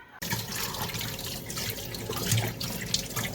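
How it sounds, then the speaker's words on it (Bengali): Running tap water pours steadily as cut pieces of freshly scaled ban (eel) fish are washed in a sink: a continuous, close splashing gush with no talking. "আবার ভালোভাবে ধুয়ে রাখা হচ্ছে"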